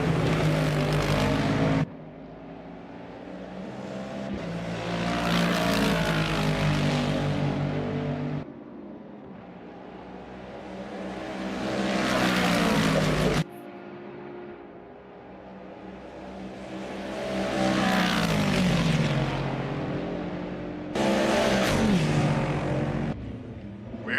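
GT3 race cars lapping Spa-Francorchamps during a Caribbean GT3 Championship round, engines loud and close, surging and fading in long waves as cars pass and shift, with brief gaps between passes.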